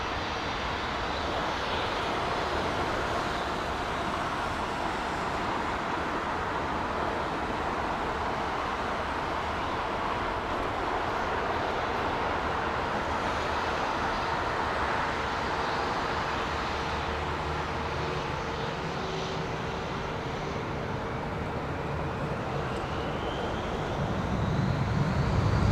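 An airliner with an IAE engine at London Heathrow Airport sends out a loud, continuous jet roar with a steady whine, sustained for about twenty-five seconds and swelling slightly at the end.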